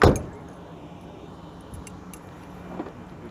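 Keys jangle and clink close up, with a sharp rattle at the start, then lighter scattered chinks over a steady indoor background hiss and a small metallic jingle near the end.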